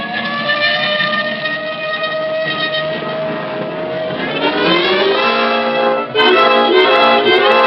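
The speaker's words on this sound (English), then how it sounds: "This time you can use the siren." Police car siren sound effect in an old-time radio detective drama, a loud wailing tone whose pitch slides and wavers, with a brief dip and restart near the end and no voices.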